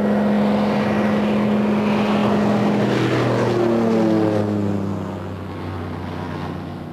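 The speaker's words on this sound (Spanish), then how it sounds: "Con estos aviones que tú ves acá, nosotros apagamos los incendios." Firefighting airplanes passing overhead, a propeller drone that swells and shifts pitch as the aircraft goes by, then fades into the distance, with no speech.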